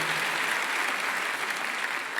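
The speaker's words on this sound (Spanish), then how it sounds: "Es un aplauso, así me gusta" Applause from a church congregation during a sermon, a dense steady clapping that fills the room evenly for about two seconds with no voices over it.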